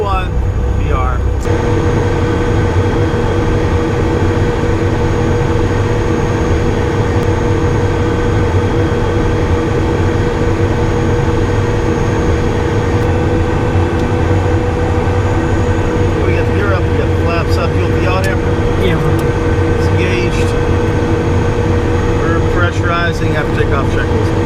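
Sustained loud jet engine roar inside a Cessna Citation I business jet during takeoff, a steady drone with high whine tones held evenly throughout, heard close from the cabin.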